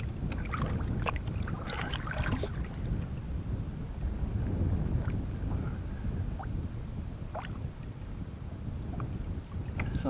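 A kayak is paddled on open water in strong wind, with scattered soft splashes and drips from the paddle over a constant rush of wind buffeting the microphone.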